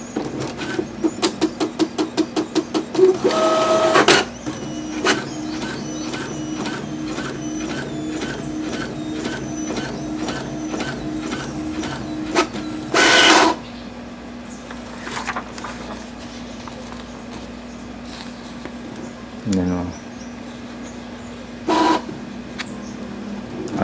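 Brother DCP-T300 inkjet printer running a nozzle test: rapid clicking at the start, then a steady mechanical whir with repeated carriage ticks and sharp bursts of motor noise, close and loud.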